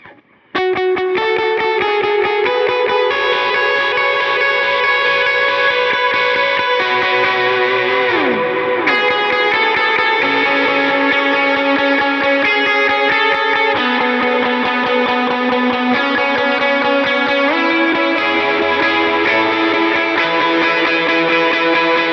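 Electric guitar plays continuous chords and notes with a distorted, overdriven tone, washed in echoing delay and reverb, loud and sustained throughout.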